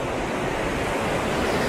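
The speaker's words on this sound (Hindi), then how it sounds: "इधर बाहर का जो नदी बहता है नीचे से" A river flowing below a viewpoint at Manikaran, heard as a constant broad rushing wash, fairly loud and even throughout, with no talking.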